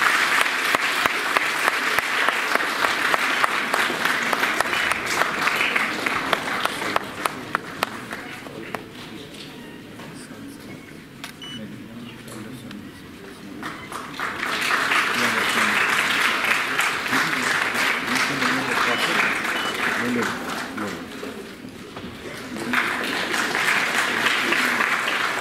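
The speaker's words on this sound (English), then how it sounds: "May I have a round of applause" An audience at a conference summit applauds as a chairman is welcomed onto the stage. Sustained clapping swells, eases to a softer patter in the middle, then rises loudly again toward the end.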